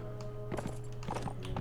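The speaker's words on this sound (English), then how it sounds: "I'm getting off this damn horse." Horse hooves clip-clop at a walk in the video game Mount and Blade: Warband, a few soft close thuds over a steady low hum, with no talking.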